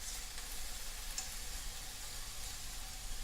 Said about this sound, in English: Okay, I'm ready to flip. You hear that sizzle?